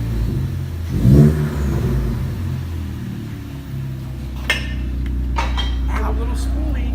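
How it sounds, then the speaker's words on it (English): A catless Ford Focus ST engine blips up in a short rev that falls back to a steady, throaty idle, loud and close, with some mechanical clicks and a faint whoosh from the turbo. "Let me give this a rev. See what she sounds like."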